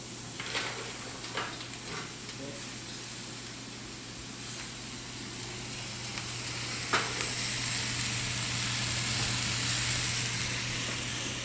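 Onions, carrots, thyme, peppercorn and scotch bonnet sizzle in a pan for an escovitch fish dish, a steady loud frying hiss with a few stirring clatters, swelling slightly toward the end.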